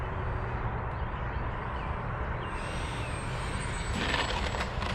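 An L-39 jet's engine is throttled back to idle on a landing approach with full flaps, a steady broad roaring rumble with a faint high whine, continuous and close, with no talk.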